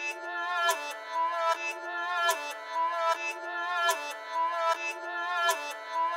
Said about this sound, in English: I added this like string phrase from Splice.